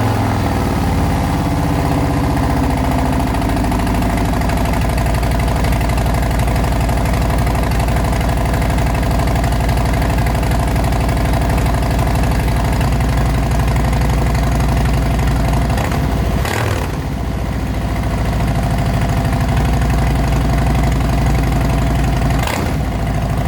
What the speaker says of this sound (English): Let's hear what this exhaust sounds like.